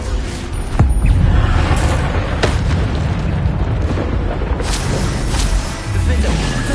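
Bombarda spell blasts in Hogwarts Legacy gameplay: a string of loud, booming explosions and bursts close up, repeating over dense rumbling combat noise.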